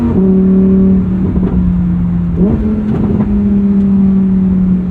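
A red Lamborghini engine hums loudly at a steady pitch, then climbs slightly as the revs rise, close and sustained without voices.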